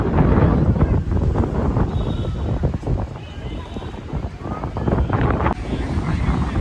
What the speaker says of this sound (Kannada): ಮಳೆ ಜೋರು ಬರ್ತಿಲ್ಲ ಆದರೆ ಗಾಳಿ ಮಾತ್ರ ಹೆವಿ ಇದೆ